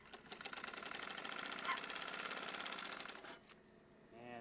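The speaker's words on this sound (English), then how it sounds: "Let's get on with sewing." A sewing machine runs a steady fast stitching rhythm while sewing a seam in teepee material, close and even for about three seconds before slowing and stopping, followed by a brief whirring.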